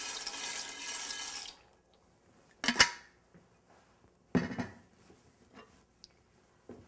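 Dry pasta poured into a pot of water on a home kitchen stove, a rushing splash and clatter at first, followed by a few sharp knocks and clinks of the pot and utensils.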